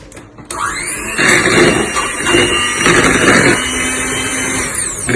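An electric hand mixer fitted with a whisk runs steadily on a slow setting, working through donut dough in a bowl, a continuous loud motor whine with rough churning and scraping as the beaters turn.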